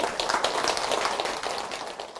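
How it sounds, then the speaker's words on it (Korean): A temple audience at a Buddhist Dharma talk applauds, a brief dense patter of claps lasting a couple of seconds that fades slightly toward the end, with no voices over it. "박수 한번 드리세요."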